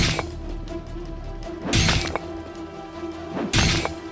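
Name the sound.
stone striking a lock until it breaks, story sound effect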